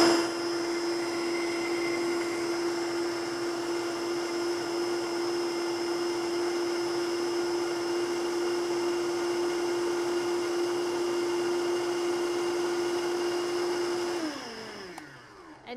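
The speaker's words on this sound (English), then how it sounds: "just all blend it up right here in the blender" A blender runs steadily on a date-based dressing, whirring with a constant motor tone for about fourteen seconds before winding down at the end, loud and alone without talk.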